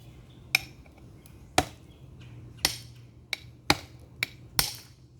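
A series of seven sharp, hard strikes on metal while opening an old oil filter from a 2003 Porsche 911, irregularly spaced and fairly close, with quiet pauses between them and no voices.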